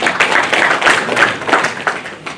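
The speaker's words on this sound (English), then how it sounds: "I would like to give another round of applause to the presenter." An audience at a local government consultation workshop claps for a presenter, with steady, moderately loud applause that tapers off toward the end.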